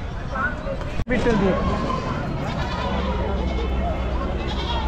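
Goats and sheep at a large livestock market in Chakan, Maharashtra, bleat amid a constant crowd babble, with people talking nearby and a brief knock near the start.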